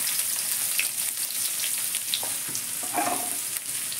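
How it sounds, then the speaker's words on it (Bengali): Onions with bay leaf, curry leaves and whole spices frying in a pan for a lentil dish, a steady loud sizzle with occasional crackles and stirring scrapes, no talking. "আপনারা পেঁয়াজ বেরেস্তা করেও দিতে পারেন, তবে আমি ভেজে দিচ্ছি।"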